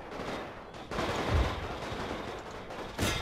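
A massed rifle volley fires in The Great War mod for Total War, a dense crackling burst of gunfire with a heavier crack partway through and another burst at the end, loud and continuous with no talk.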